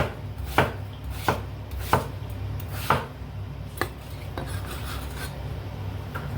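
A knife slices through pumpkin on a board in a home kitchen, striking in a steady run of about eight crisp cuts, close and clear against low background hiss.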